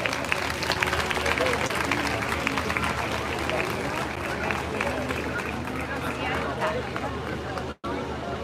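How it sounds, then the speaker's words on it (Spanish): A crowd at a carnival dance performance in Madridejos claps steadily and loudly, a dense continuous patter with crowd murmur mixed in, cutting off abruptly near the end. "Fuerte el aplauso para ellos."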